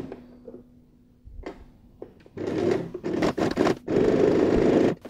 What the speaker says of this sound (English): sew a 1/4 inch seam starting and finishing with a back stitch